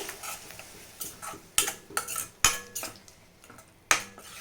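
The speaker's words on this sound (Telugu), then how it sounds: "ఇప్పుడు దీన్ని ఒకసారి బాగా మిక్స్ చేసుకొని ఫ్రై చేసుకోవాలి" A spoon stirs masala with yogurt in a metal pot for egg biryani, giving close clinks and scrapes against the pan at an uneven pace, with a few sharper knocks and a faint sizzle beneath, no talking.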